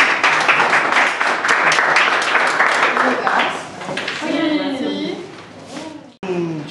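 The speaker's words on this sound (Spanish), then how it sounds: "un aplauso a todos" An audience applauds everyone at a talk with an Israeli illustrator, a dense steady clapping that fades after a few seconds, with voices talking over the tail.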